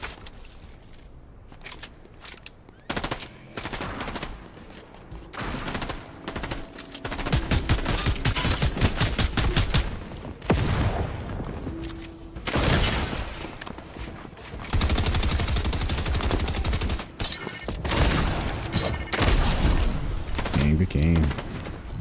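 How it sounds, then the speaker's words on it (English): Gunfire from a shotgun and other weapons during a Fortnite match, with loud bursts of shots, some rapid, others spaced, repeating across the stretch under and between bits of talk. "Oh, they have a shotgun?"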